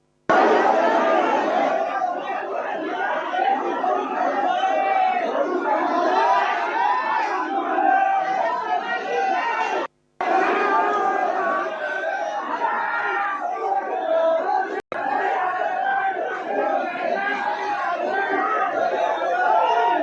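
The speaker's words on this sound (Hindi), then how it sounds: "भीड़ बहुत है।" Large crowd of pilgrims at a crowded temple, a dense, loud wall of overlapping voices and chatter that runs continuously, broken only by a brief cut midway.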